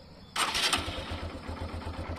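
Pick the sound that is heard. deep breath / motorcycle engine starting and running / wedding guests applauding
motorcycle engine starting and running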